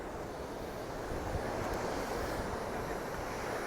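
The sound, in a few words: Atlantic Ocean waves and surf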